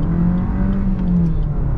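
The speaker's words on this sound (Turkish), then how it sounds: "Şimdi 0-100'ümüzü yapıyoruz. Bakalım S-Cross nasıl hızlanıyor." A Suzuki S-Cross 1.4 hybrid 4x4 accelerates at full throttle, its engine droning loud and steady from inside the cabin with a rising tone.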